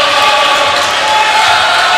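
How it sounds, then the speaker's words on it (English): High school basketball crowd in the Bullis versus Episcopal game cheering loudly and continuously, a bright dense roar of voices filling the gym with no single voice standing out. "This crowd, which had been stunned a little bit in the early game, really coming back out to life"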